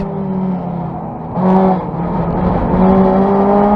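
Race cars lapping Donington circuit in traffic during a 750 Motor Club race, a steady loud engine drone with a surge of revving partway through, no talk.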